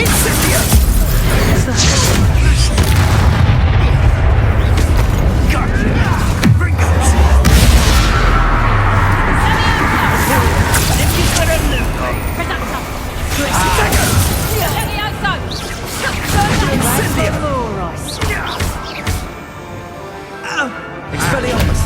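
A fiery Incendio spell blast in Hogwarts Legacy bursts out amid a dense mix of loud booms, crashes and shattering impacts, with dialogue and combat effects layered over the whole stretch.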